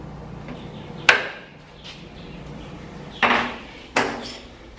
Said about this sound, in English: So I'm putting it in the bender.